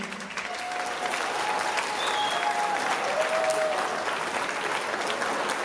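At a wedding, guests applaud the groom Hrayr with loud, sustained clapping that swells and stays full, with a few whistles or voices rising over it.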